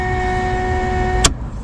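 An electric fuel pump in a turbocharged 3K Toyota Corolla, worked by a rocker switch, runs with a steady whine. A sharp click follows and the pump cuts out.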